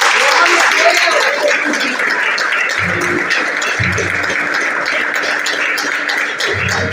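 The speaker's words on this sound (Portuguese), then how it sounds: "Aplauda, Senhor" A church congregation at a Thursday service applauds, bright sustained clapping at a steady loud level while low-pitched voices or instruments break in intermittently beneath it.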